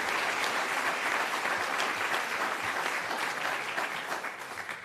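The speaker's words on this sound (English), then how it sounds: "round of applause for Erica Tracy, Executive Director of the Hoopa Tribal Education Association" A town hall audience applauds, a thick continuous wash of clapping that stays loud and even throughout before tapering slightly at the close.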